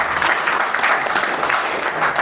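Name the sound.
audience applause for an actor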